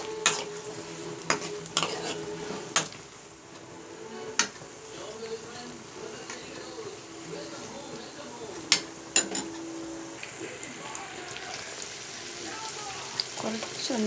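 Tomatoes for a snake gourd, tomato and lentil curry sauté quietly in a pan, a soft low sizzle broken by sharp clicks and taps of a spoon against the pan.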